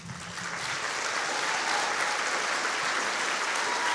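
An audience claps during an emotional talk: dense, steady applause that swells in the first half-second and then holds at an even, fairly loud level with no voices on top.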